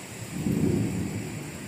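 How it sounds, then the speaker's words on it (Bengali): Low thunder rolls through a rain shower, a soft rumble swelling and fading over a couple of seconds beneath a steady wash of rainfall, with no voices. "কারণ মেঘ ডাকছে, শুনতে পাচ্ছ?"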